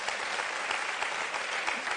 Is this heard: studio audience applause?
yes